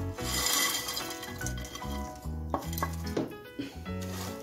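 Chushi pitha going into a pot of warm milk, with metallic clinks and clatter of a utensil against the pot in a series of close knocks.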